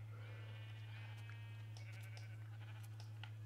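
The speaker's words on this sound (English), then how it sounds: "Shearing sheep has become a bit of an art since the update." Video game sheep bleat during shearing, several short wavering bleats and soft clicks over a constant low hum, fairly faint.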